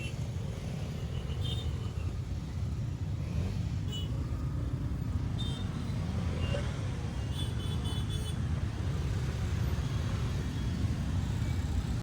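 Vehicles start up and move off in traffic at the Nandi Hills gate, a continuous low engine and road rumble with faint horn toots in the distance.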